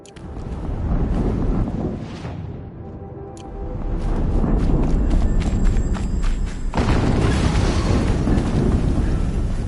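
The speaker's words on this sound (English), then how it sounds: "Another explosion." Explosions in the Horizon Zero Dawn video game, heavy rumbling booms with dense low roar and rushing wind-like noise, a loud blast around the middle that sustains into a continuing thunderous wash.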